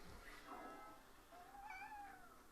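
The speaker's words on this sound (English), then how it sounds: "He sometimes have little actual meows" A pet cat named Sylvester gives a couple of quiet, drawn-out meows. The calls are faint and close and sit over a low background hum, with no talking.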